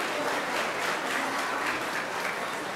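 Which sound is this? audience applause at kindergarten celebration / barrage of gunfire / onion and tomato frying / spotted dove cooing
audience applause at kindergarten celebration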